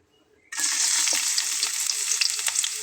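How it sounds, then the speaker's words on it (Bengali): Chopped onion drops into hot mustard oil after a quiet moment and bursts into a loud, bright, continuous sizzle that carries on steadily, broken by a few faint stirring clicks. "তেলটা গরম হয়ে গেলে আমি এখানে দিয়ে নেব বেশ কিছুটা পেঁয়াজ কুচি করে নেওয়া"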